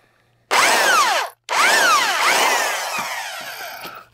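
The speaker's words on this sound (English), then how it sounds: "I'll drill them out a little bit." A power drill whines up in two bursts with a short pause between, drilling out and enlarging holes, its pitch sweeping as it bites, then winding down.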